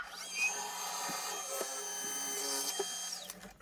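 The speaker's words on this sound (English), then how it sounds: "Put the center drill back in and drill the second hole." Center drill cutting a hole in a Miser Sterling flywheel, a steady high whine from the machine with faint tool-contact ticks, close and continuous for a few seconds before it winds down.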